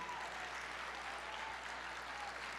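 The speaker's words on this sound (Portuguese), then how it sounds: "Aplauda mesmo, libere esta palavra de fé na sua vida." A church congregation applauds, a steady wash of many hands clapping together, distant and faint, with no clear speech over it.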